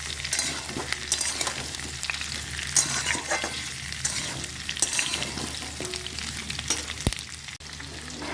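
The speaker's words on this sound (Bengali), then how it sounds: "পেঁয়াজ রসুন এর মধ্যে দিয়ে দিলাম, দিয়ে হালকা ভেজে নিয়ে তারপরে আমি জল দেবো।" Onion and garlic fry lightly in a pan for a chicken stew, a steady broadband sizzle running throughout with occasional utensil scrapes and clinks, close and alone without talk.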